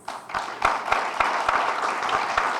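Scattered audience applause at a signing ceremony starts softly and swells into steady clapping, with sharp individual claps standing out close by.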